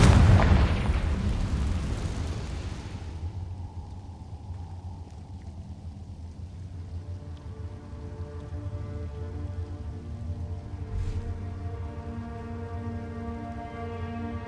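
A Confringo spell explosion in Hogwarts Legacy bursts loudly at the start with a deep rumbling boom, then decays into a fading crackle beneath sustained music.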